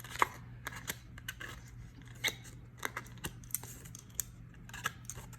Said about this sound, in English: take our tool to kind of poke all those little holes through the die cut